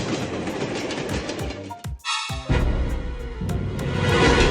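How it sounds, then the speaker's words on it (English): A cartoon train rumbles past loudly with a rattling clatter and a brief horn-like tone midway, filling the whole stretch with rail noise. "Train."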